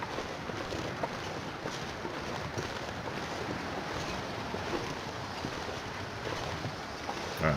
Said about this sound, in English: Oh, it is windy.